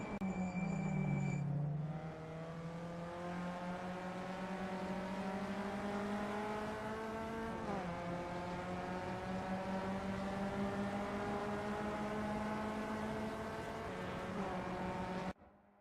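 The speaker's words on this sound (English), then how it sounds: "Bradley Fortuin is on their out lap, warming up the tires and getting ready to put in a fast lap time" VW Up Cup race car engine on an out lap, a continuous nasal drone that climbs steadily through the gears, with one brief dip and shift partway through, then cuts off abruptly at the end.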